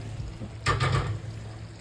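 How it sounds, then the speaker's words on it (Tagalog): Moringa leaves and string beans tipped into a pot of simmering coconut milk, giving a short soft splash and rustle about midway that fades into a low steady bubbling hum. "ilagay ko na yung malunggay at saka yung sitaw"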